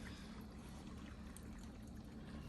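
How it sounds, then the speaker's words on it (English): Water poured into a pot of beef stew, a steady soft splashing trickle lasting a few seconds, close and fairly quiet with no talk over it. "So we're just going to pour this in."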